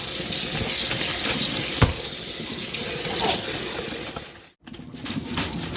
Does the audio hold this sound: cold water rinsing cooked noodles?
yes